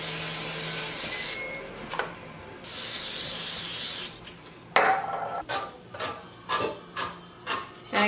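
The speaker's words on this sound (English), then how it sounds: "I'm going to spray both sides of this with olive oil spray" Olive oil cooking spray is misted over turkey patties in a kitchen in a few hissing bursts, followed by several short, soft spritzes and rustles close by.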